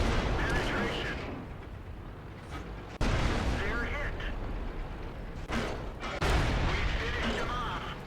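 Tank cannons boom in a World of Tanks battle, a few heavy blasts with sharp onsets, near and loud, over a continuous rumbling battlefield bed.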